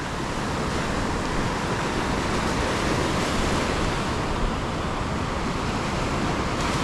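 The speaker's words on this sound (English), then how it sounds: "As those waves push in" Ocean waves surge and break on a fishing beach with a strong rip current, a steady broad roar of surf with wind noise on the microphone, continuous and loud throughout.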